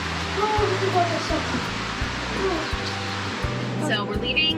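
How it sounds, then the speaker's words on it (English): Steady rushing water flows throughout Lost River Gorge with soft dripping, while a low hum and voices sit underneath. "The water's dripping up here."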